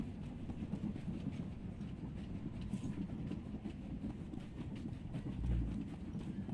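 A train in a video game rolls steadily along, a continuous low rumble with faint rhythmic clatter throughout and a brief heavier thump near the end, with no voices.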